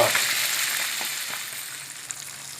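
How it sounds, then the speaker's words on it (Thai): Fish frying in a pan of hot oil, a loud close steady sizzle with faint crackles, heard alone. "ทอดปลาชุมหนึ่งตัว"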